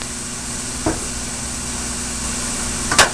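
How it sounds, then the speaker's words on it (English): Kielbasa sausage sears in a screaming hot pan, giving a steady, even hiss that runs the whole time, broken by two brief clinks. "here I have a screaming hot pan, and I'm going to add some kielbasa"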